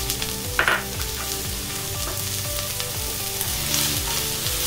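Chopped carrot, celery and onion mirepoix frying in a Dutch oven, a steady close sizzle running throughout with a brief louder spatter early on.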